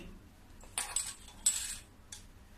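Watermelon rind set into a small bowl in a home kitchen, two sharp clinks followed by a lighter tap, close and fairly quiet.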